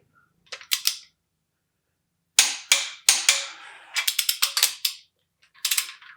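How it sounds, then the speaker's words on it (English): A torque wrench ratchets in short bursts of sharp clicking while tightening Compstar crankshaft bolts on an LS 5.3 stroker engine build. Several separate clusters of clicks are heard close up with quiet gaps between them. "Trust the torque wrench."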